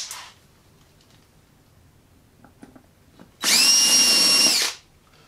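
Quiet shuffling, then a power drill whines loudly for about a second as it bores into wood, stopping abruptly.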